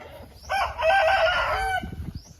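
A rooster crows once, a loud, drawn-out call up close, with faint background noise and a few soft clucks trailing after.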